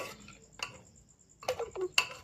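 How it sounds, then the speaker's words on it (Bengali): Utensil scraping and clinking in a pot while beaten egg is stirred into mutton stew, a few short close metallic taps and scrapes with quiet gaps between. "নাড়াতে হবে ভালোভাবে নাড়িয়ে নিচ্ছি"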